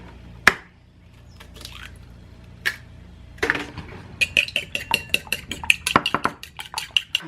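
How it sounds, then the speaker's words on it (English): Two eggs are beaten in a small container for a hot honey chicken recipe: a few clinks first, then a quick run of rhythmic fork taps against the container, close and fairly loud, with no talking. "we're going to beat 2 eggs in a separate little container"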